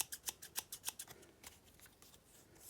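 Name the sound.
scissors being opened and closed, getting stuck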